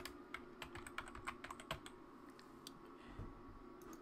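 Quick, irregular keystrokes on a computer keyboard, close and fairly quiet, with brief pauses between short bursts; no one speaks.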